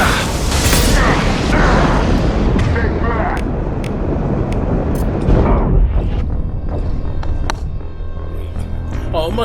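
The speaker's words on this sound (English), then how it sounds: "Impending explosion." An explosion in the video game Mass Effect 2 bursts as a loud dense roar that rumbles for several seconds, then decays into quieter mechanical ticks and clatter.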